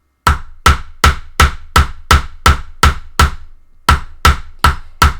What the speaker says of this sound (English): was saving this to whack it with a hammer a lot